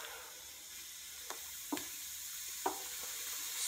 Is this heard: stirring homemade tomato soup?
yes